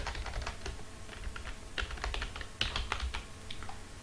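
Fingers type quickly on a computer keyboard, a quiet, fairly steady run of clicking keystrokes with small bursts, heard alone without talk.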